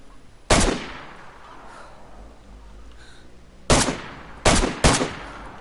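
Gunfire in the DayZ survival video game: four sharp, loud, close shots, one alone and then three in quick succession after a pause, each with a short decaying tail.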